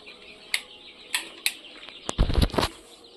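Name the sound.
22-day-old quail chicks flapping and calling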